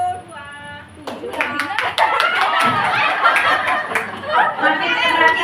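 A group of teachers claps in a 3-6-9 counting game, a burst of sharp hand claps starting about a second in and continuing, mixed with chatter and laughter.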